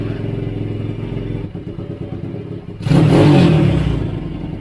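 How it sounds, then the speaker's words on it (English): A 2020 SSR 140 pit bike engine idles with a lumpy, uneven putter, then revs up sharply into a loud, raspy roar before easing back down. "That exhaust actually sounds really nice"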